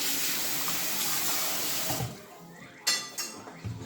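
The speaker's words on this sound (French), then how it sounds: "Je rince un peu mes mains." Hands rinsed under a running kitchen tap while cooking fried fish, a steady hiss of water that cuts off, followed by a few small clatters and splashes nearby.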